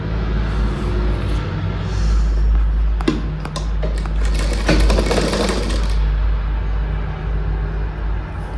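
A sewing machine runs steadily while stitching a blouse, its close, loud mechanical whir and rapid needle clatter continuing throughout with brief clicks partway through.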